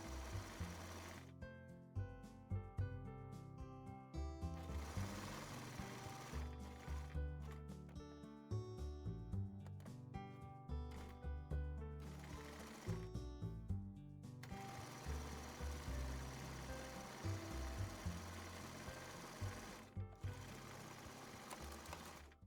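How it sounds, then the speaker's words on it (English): A sewing machine stitches fabric for a drawstring bag, running in rapid mechanical bursts with brief pauses between runs, steady and fairly close throughout. "you can swivel your fabric and put your foot back down to carry on sewing"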